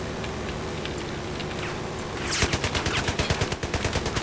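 Gunfire from the Battlefield 4 video game starts about halfway through as a rapid, evenly spaced automatic burst, loud and close, over steady background game noise.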